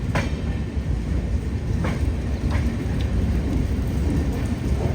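A Konkan Railway LHB passenger train at Thivim station in North Goa gives a loud, steady rumble with a few faint metallic clanks, and no voices.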